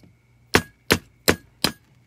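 Mosaic nippers nibble at smalti glass, four sharp close clicks spaced evenly about a third of a second apart, alone in a quiet room.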